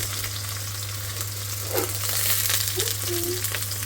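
Prawns fry in hot oil in a pan, giving a steady close-up sizzle and crackle with an occasional light scrape. A low electrical hum runs underneath throughout.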